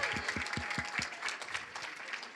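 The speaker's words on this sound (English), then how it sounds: "cheer and clap if you're excited to be here today to support our awardees." An audience at a city employee recognition awards ceremony applauds, with a burst of sharp individual claps at the start melting into sustained, moderately distant applause and scattered cheers.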